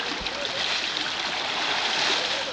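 Water splashing and churning in the Green River, a steady broadband wash of moving water close by with a few brief splashes, continuous and fairly loud throughout.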